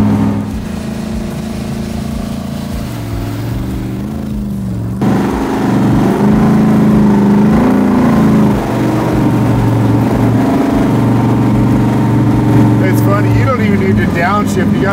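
A 712 cubic inch, 1000-plus horsepower naturally aspirated engine in a 1955 Chevy roars steadily and loudly, then jumps sharply louder around a third of the way through as it downshifts into third gear and pulls hard.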